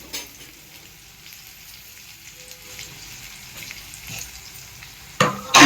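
Poppy seed paste frying in a pan gives a soft, crackly sizzle with light stirring, fairly quiet for most of the stretch before a sudden loud burst of hiss near the end.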